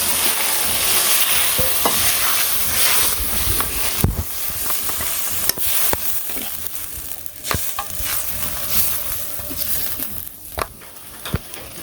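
Spice paste frying in a pan with yogurt and almond paste just added, giving a steady bright sizzle with occasional stirring scrapes and clinks throughout, close and moderately loud, with no talking.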